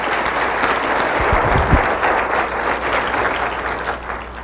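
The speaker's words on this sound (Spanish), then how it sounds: "Démosle un aplauso al Señor Jesucristo." A church congregation breaks into sustained applause offered to the Lord Jesus Christ at a Spanish-language service, thick continuous clapping with a few low thumps midway.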